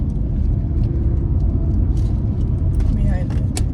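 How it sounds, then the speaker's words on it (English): A truck rolls along slowly with a steady low engine rumble and road noise from inside the cab, while people talk over it. "truck is like going slow right now"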